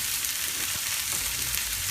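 Bell peppers and cherry tomatoes with lemon juice fry in a pan, a steady, even sizzling hiss that stays close and constant throughout, with no talking.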